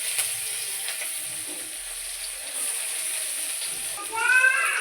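Chopped onions hit hot oil already seasoned with bay leaf and slit green chillies, giving a steady close sizzle that swells into a louder crackling burst near the end.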